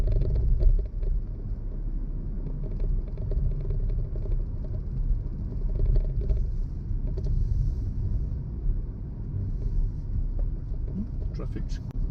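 Low engine rumble and road noise from a car moving steadily on a quiet road toward a roundabout, heading into a country stretch, a continuous close drone with little change across the drive.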